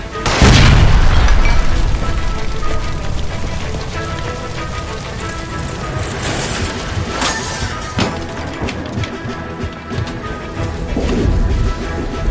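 A gas line blows up beside a stove in LA Noire with a loud, close boom at the start, then a long rumbling, crackling crash with falling debris and further bursts.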